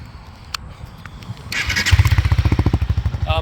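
A 2021 Honda CB300R motorcycle engine with baffles in fires up after a brief scrape and settles into a loud, pulsing idle with a steady throbbing rhythm, close by.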